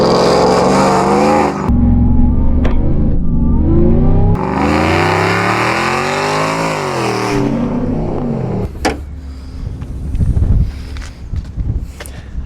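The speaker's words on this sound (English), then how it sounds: "you got a supercharged daily driver now, thanks to WHIPPLE Superchargers" A WHIPPLE 3-liter supercharged Chevrolet Silverado daily-driver truck engine revs hard and loud up close in long surging pulls, then drops to a rumbling idle with a few sharper blips near the end.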